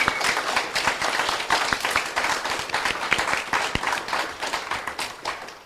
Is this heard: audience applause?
yes